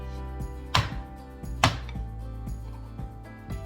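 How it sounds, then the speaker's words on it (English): A knife blade smashes a quarter-sized piece of ginger on a cutting board in two sharp, loud whacks about a second apart, followed by softer knocks and light kitchen clatter, with no talking. "And the ginger, I'm just going to take it and take my knife and smash it"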